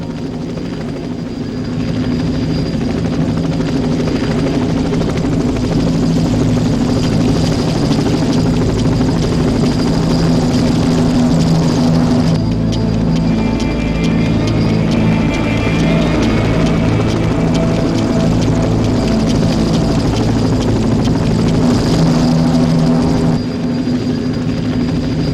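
A military helicopter's steady, loud rotor and engine drone runs continuously from near the start to the end, close and unbroken.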